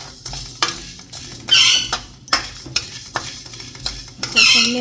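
Cumin seeds and curry leaves crackle and sizzle in a hot pan while being roasted and stirred, with repeated scraping strokes and bursts of spitting close by, and no talking.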